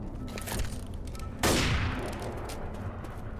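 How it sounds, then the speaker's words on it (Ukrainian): A single sharp pistol gunshot in the video game Left 4 Dead, with a ringing decay, set against steady low rumbling background noise, with a few faint softer pops around it. "з пістолета один постріл в голову і ти вбиваєш зомбаря"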